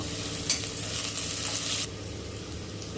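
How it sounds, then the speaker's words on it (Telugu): Mint, salt and turmeric fry in hot oil for egg rice, a steady close sizzle with stirring scrapes that cuts off abruptly near the end, leaving a faint low hiss. "ఇవన్నీ కొంచెం బాగా ఫ్రై చేస్తాను"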